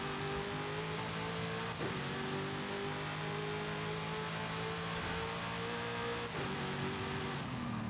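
A Hennessey Venom's engine drones steadily and loudly in Forza Horizon 5, holding a sustained high rev with two brief dips, like gear shifts, near two and six seconds.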